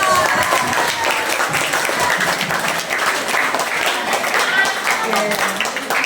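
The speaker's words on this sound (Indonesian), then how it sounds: "Ayo coba tepuk tangan buat kita semua." A hall of junior high school students at SMP Negeri 1 Gending applauds, with steady, dense clapping that carries evenly throughout, mixed with crowd voices and chatter.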